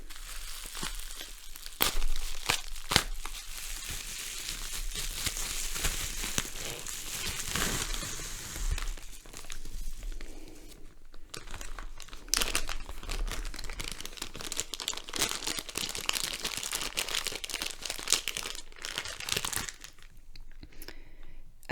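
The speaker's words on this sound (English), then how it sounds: "Now, let's get to unwrapping. I will try to do this slowly," Art supply packaging being unwrapped slowly and close up, with repeated crinkling, crunching and sharp tearing bursts, irregular and fairly quiet, no talk.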